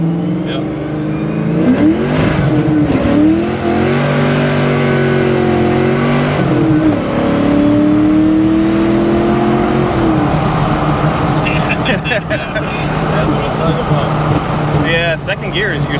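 A 1988 Mustang GT accelerates hard in first gear, its engine note climbing in a loud sustained roar with repeated rises and brief dips, wind and road noise underneath.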